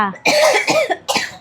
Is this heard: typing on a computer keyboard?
no